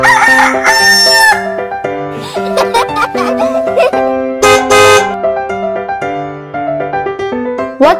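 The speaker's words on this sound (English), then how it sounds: "And the sound of the rooster is" A loud, tonal rooster crow rendered as a bright stretched call over a musical backing track, repeated in bursts with musical notes between them.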